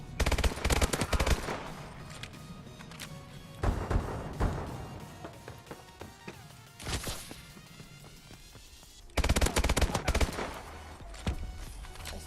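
Rapid automatic gunfire from the AW AMR9 in a first-person shooter, loud sustained bursts separated by brief lulls, with shorter volleys and impacts in between.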